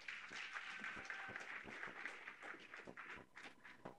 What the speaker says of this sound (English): A big applause for them and welcome them back to the stage.